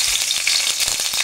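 Garlic sizzles in hot cooking oil in a pan for a chicken dish, a steady loud crackling hiss with small pops and no talk.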